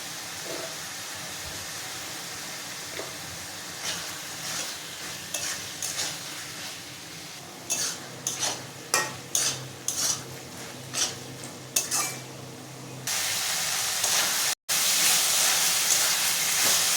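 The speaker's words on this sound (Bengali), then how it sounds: "মশলা কষানো হয়ে গেছে, চিকেন কিমাটা দিয়ে দিলাম। কিমাটাও এখন ভালো করে কষাতে থাকবো।" Chicken mince sautéing in spice masala for biryani, a steady sizzle in the pan with a run of rhythmic spatula scrapes and clinks against the pot, then louder frying hiss toward the end.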